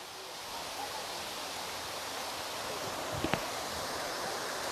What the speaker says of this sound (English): It's another waterfall.